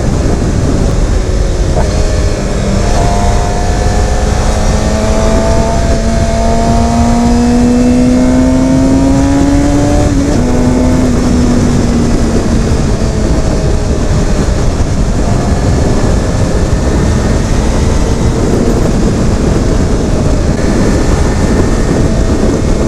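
A 2016 Suzuki GSX-R750 sport motorcycle engine drones steadily while riding on a hot day, its pitch climbing and shifting through gears with constant wind roar, loud and continuous with no talking.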